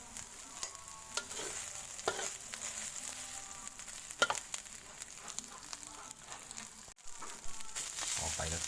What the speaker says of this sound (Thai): ปรับไฟให้อ่อนๆครับ สำหรับการผัดพริกแกงครับ